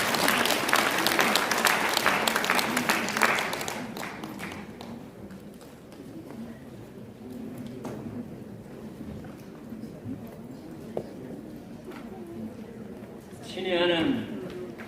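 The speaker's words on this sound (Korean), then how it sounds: "우리 박수로 한번 환영하겠습니다." An audience at a Christian workshop lecture in a hotel hall in Gyeongju welcomes a speaker with loud, dense clapping that lasts a few seconds and fades into a quiet room, with brief sounds near the end.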